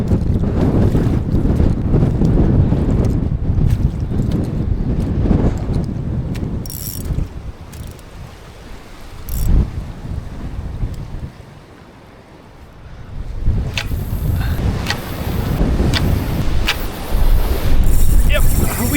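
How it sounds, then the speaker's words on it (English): Wind blows hard across a seaside cliff, buffeting the microphone in loud gusts with rumbling surf-like noise and clanks of fishing gear, dipping briefly midway before roaring back; a voice is heard faintly at times. "metal is the choice of the game today because it is more windy than I thought"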